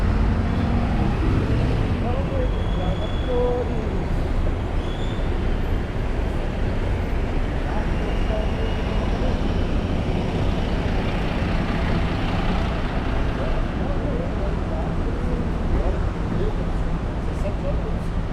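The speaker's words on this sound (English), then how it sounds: "So it's a traffic hour. That's why I see there's a lot of cars." Steady rush-hour traffic roars through São Paulo's Itaim Bibi financial district, with many cars and heavier trucks or buses blending into a loud, continuous roadway wash that holds for the whole stretch.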